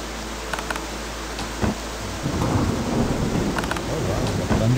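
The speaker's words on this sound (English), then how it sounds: "Oh wow, we got thunder and everything." A thunderstorm in the survival game Sunkenland: low rolling thunder rumbles over a steady wash of rain, with a couple of sharper cracks and swells that rise and fall, loud and close.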